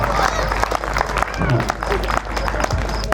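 Clapping and crowd noise from an audience at a comedy poetry gathering at Krishna Bhoomi Hostel in Barmer, with lively mixed clapping running under a speaking voice and crowd murmur.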